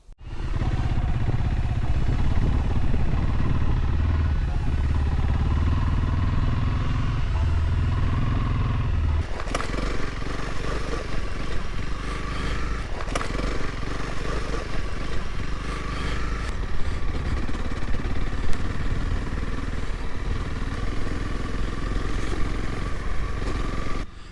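A Honda CRF300L motorcycle rides on off-road trails with a steady, loud engine drone that holds for the whole stretch, broken by occasional clattering and bumps.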